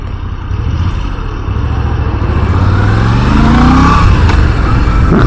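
Moto Guzzi V7 Stone motorcycle engine pulling in fourth gear, a loud, steady mid-pitched drone that rises gradually in pitch as the bike accelerates, heard close with no talk.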